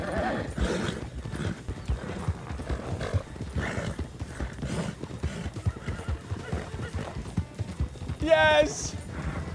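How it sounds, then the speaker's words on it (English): Horse hooves clip-clop in a steady rhythm over a busy, moderately loud background, and a neigh rings out near the end. "I hear her horse is tired."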